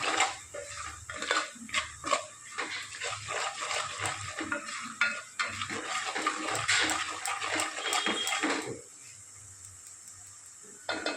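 A milk-soaked spice mix is poured into a pan of sautéed onion, tomato and garlic for mixed-veg Kolhapuri sabzi, giving a wet splashing and stirring clatter with scraping taps, steady and close, then dropping to a quieter sizzle.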